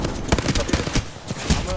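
Rapid bursts of gunfire from a team-based shooter video game crackle in repeated sharp volleys, loud and close, with a steady battle din underneath.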